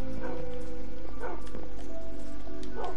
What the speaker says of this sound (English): Whoa, is that the dogs? They're angry.